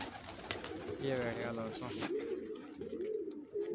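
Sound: pigeons landing and cooing

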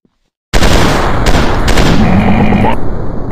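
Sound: gunfire from a video game commando shooter

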